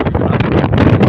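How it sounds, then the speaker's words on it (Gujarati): A strong wind blows outdoors in Junagadh with Girnar faintly in view, rushing and buffeting the microphone in a loud, continuous roar. "પવન ફૂલ છે અત્યારે જુનાગઢ જોઈ શકો છો"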